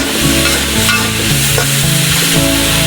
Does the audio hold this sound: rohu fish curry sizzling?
yes